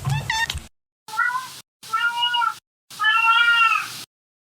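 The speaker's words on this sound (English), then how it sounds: "sometimes my cat Winston joins me" A domestic cat meows four times in a row, each call drawn out with a short silence between, close to the microphone and with no other sound.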